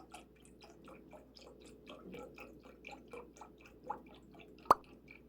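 Ultra-pasteurized 1% milk, one quart, poured into a 2-quart pot on the stove, glugging in a steady rhythmic series of wet bursts, close up, ending with one sharp clank.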